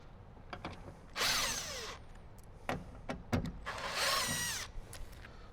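A power drill backs screws out of a Toyota Tacoma's door panel in two short whirring bursts, with small clicks and handling knocks between them in a quiet space.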